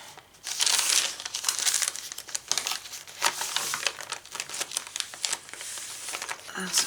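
Ledger paper in a handmade prayer journal crinkling and rustling as it is unfolded and handled, close and busy in bursts with short pauses, talking nearby.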